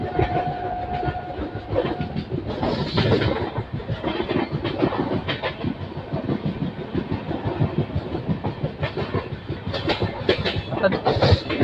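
A train on the Pune to Kurduwadi line runs along the rails with continuous clickety-clack and wagon rumble, loud and close throughout, as if heard from on board.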